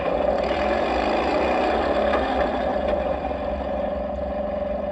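Simulated engine sound effect from a Tongde M24 Chaffee 1/16 scale RC light tank, a steady, dense droning rumble that holds at an even level throughout, close and loud with no talking.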